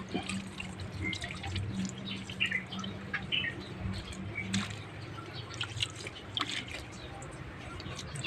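Water drips and splashes unevenly while a flood-damaged TV is rinsed under a running stream, as a person talks nearby.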